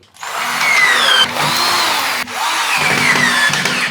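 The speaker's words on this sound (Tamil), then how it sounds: "இது அப்படியே மேலாப்பில் வச்சு நம்ம ஸ்க்ரூ பண்ணிக்க முடியுது" A power drill runs steadily, driving screws to fix an instant shower water heater cabinet to a wall: a close, loud whine in two long bursts with a brief pause between them, and no talking.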